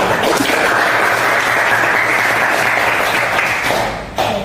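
A classroom group claps loudly for a group presentation, with steady continuous applause that tapers off near the end.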